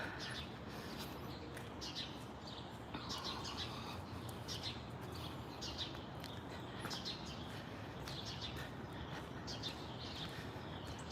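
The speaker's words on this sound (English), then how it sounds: "You can hear all the birds." Many birds chirp and tweet in repeated short calls against a soft outdoor street background in Washington, D.C. in spring, fairly quiet and steady throughout.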